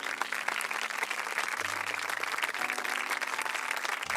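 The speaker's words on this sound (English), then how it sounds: "Let's give a round of applause for our new members." An audience in a hall applauds new members at a National Honor Society induction ceremony, giving dense, sustained clapping from many hands throughout, steady and moderately loud with no talk over it.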